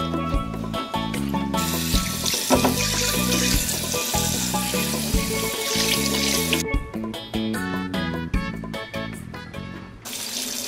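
Tap water runs steadily and loudly over a tagine lid being rinsed clean in a kitchen sink, splashing and shifting in tone as the lid moves under the stream.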